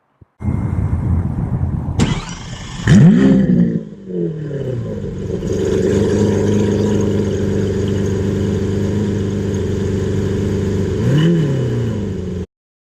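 A loud Lamborghini Aventador engine starts, barks through sharp revs, then settles into a deep, steady idle before one more quick blip and cutoff.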